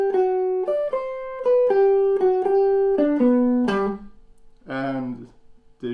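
Guitar triplets picked in an uneven long-short rhythm for practice, a run of clear repeated plucked notes stepping through a phrase, then a short strummed chord near the end; close and alone.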